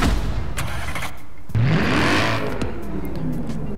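Mercedes-AMG C63 with a 6.3-litre V8 in Forza Horizon 4, loud engine note revving up and holding a steady roar, with a rising pitch sweep midway as it accelerates.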